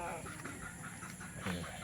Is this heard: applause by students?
no